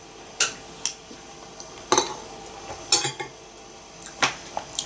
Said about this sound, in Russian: Ложкой счищаю мясо с кости.